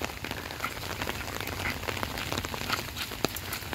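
Heavy rain falls in a village during a flood-causing storm, a dense, continuous hiss of drops striking surfaces with scattered louder splats, steady and close, with no voices.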